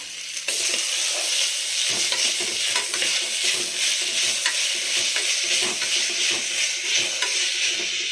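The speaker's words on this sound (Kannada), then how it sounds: "ಈಗ ಈ ಟೊಮ್ಯಾಟೊ ಸಾಫ್ಟ್ ಆಗೋವರೆಗೂ ನೀಟಾಗಿ ಹುರ್ಕೋಬೇಕಾಗುತ್ತೆ" Tomatoes stir-fried in a pan with salt over a low flame for palak dal, giving a steady close sizzle broken by frequent scraping stirs of a spoon for the whole stretch, with no talking.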